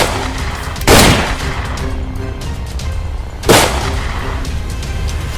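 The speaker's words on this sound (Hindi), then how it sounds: "लाखन तूने रंगा पे गोली चलाई" Two loud, booming gunshots about two and a half seconds apart, each ringing out over a steady rumbling background.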